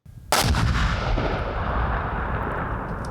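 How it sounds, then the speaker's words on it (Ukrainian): A single loud, sharp blast of a shaped charge detonating in a test, followed by a long rumbling decay that fades slowly, heard outdoors at a distance. "Відходимо на безпечну дистанцію та починаємо експеримент. Увага! Вибух!"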